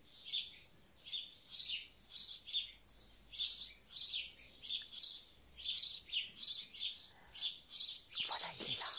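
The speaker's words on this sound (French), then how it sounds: "Je suis en train de chercher l'oiseau pour vous le montrer" A bird chirps repeatedly outdoors in quick, high, twittering bursts at a steady rhythm, moderately near and fairly faint, with a brief voice at the very end.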